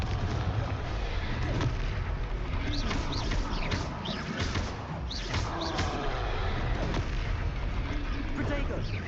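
Confringo blasting spell exploding in the Hogwarts Legacy video game, a dense run of booming blasts and crackling impacts layered over game music, loud and continuous throughout.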